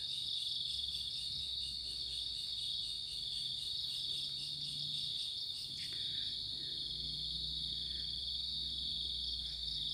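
Crickets chirping at night in a dense, continuous high-pitched trill that stays steady and moderately loud, with a faint low background hum underneath and no talking.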